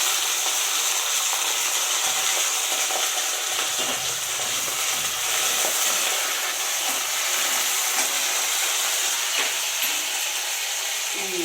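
Green chillies and curry leaves sizzle steadily in hot oil for a tomato and coriander chutney, a loud, dense, continuous frying hiss with faint stirring scrapes and no talking.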